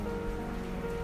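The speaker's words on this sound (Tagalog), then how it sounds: "Ang lakas ng ulan sa labas" Heavy rain falls outside as a steady, dense hiss, even and unbroken over a moment.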